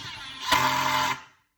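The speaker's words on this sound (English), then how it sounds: "that is the sound of that impact force activating" A steady mechanical whir jumps to a louder, rattling buzz as an impact driver hammers a screw, then cuts off into silence.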